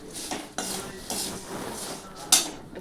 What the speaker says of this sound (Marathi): आता थोडे थोडे भाजके पोहे आपण घेणार आहोत आणि त्याला छान असं भाजून घेणार आहोत.